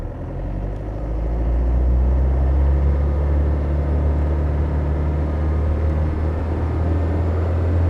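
A 1994 Land Rover Defender 90 picks up speed, its engine a deep, loud, continuous rumble that swells in the first couple of seconds and then holds steady and close.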